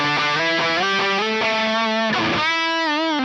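An electric guitar played through an Atomic Amplifire on the Hot Brit model with a plate reverb. A distorted sustained lead line with bends and slides rings out alone, and the reverb adds a light tail.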